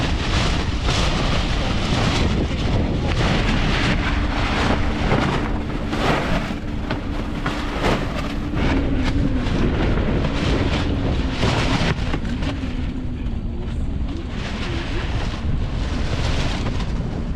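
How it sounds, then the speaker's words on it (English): Strong wind gusts roar and buffet continuously against the microphone aboard a sailboat, with rumbling gusts and a faint mechanical hum underneath. "The gusting winds caused the deployment of the gennaker to be less than textbook."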